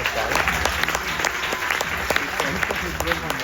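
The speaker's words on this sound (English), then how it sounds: "Give her a round of applause." Onlookers at a card trick performance break into applause, a full, lively burst of many hands clapping, with crowd murmur and voices mixed in beneath it.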